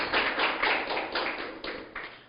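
Church congregation clapping together in steady applause, a dense continuous burst of many hands lasting a couple of seconds with rhythmic pulses, no talking.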